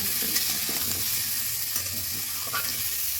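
Oil hits a hot pan on a clay stove at an outdoor family picnic, giving a steady hissing sizzle with faint crackles and light clatter, close and even throughout, with no talk.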